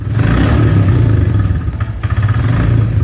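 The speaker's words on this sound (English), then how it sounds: "The sound of this engine and exhaust feels more clattery and raw." A Royal Enfield Meteor 350 single-cylinder engine and exhaust run steadily and loud, with a raw, clattery low thrum and brief shifts in pitch, close and without talk.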